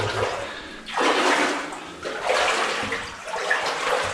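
Wading through deep water inside an old mine, in wellies: broad sloshing and swishing surges of water come in repeated strides, close and fairly loud, with no talking.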